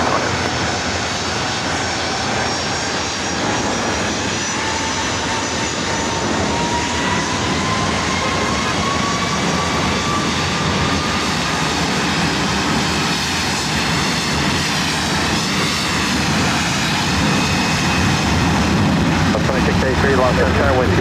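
A jet airliner takes off from runway 24 right at Los Angeles International Airport, its engines roaring loud and steady for the whole stretch as the whine slowly shifts in pitch.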